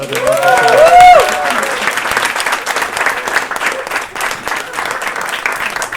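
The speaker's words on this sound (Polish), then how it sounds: "Tomek Machicki, wielkie brawa!" Audience applause at a stand-up comedy show, loud sustained clapping from a crowd. A brief tonal sound rises over it near the start, then the clapping continues alone.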